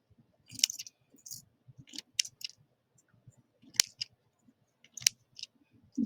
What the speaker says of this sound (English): we need to cut little teeny tiny pieces of foil.